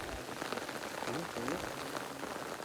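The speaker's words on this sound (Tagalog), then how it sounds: "ang lakas ng ulan" Heavy rain falls steadily in a soft, constant patter in the countryside, with a faint voice briefly audible beneath it.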